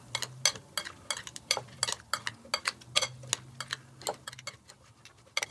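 A Middle Eastern salad dressed with lemon, red wine and mint is tossed in a bowl, giving rapid irregular clinks and scrapes of utensils against the dish, crisp and close, with no talking.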